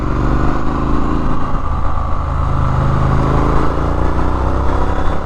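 Triumph Street Scrambler motorcycle engine running steadily through a gear change, a loud, close, continuous rumble with low harmonic drone and wind, no voices.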